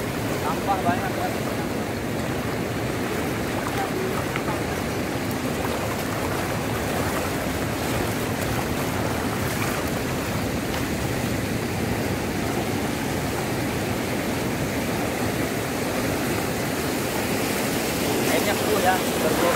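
Ocean waves roar at Legon Pari beach in Sawarna during the rainy season, a loud continuous broadband wash of surf with no clear breaks, steady throughout.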